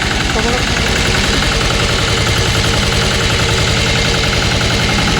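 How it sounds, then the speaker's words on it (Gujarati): A new three-wheel Sanedo tractor engine runs at a fast, high idle, its steady loud pulsing knock continuous throughout with no break. "આ એન્જિન નવું છે એટલે થોડો રેસ વધારે છે"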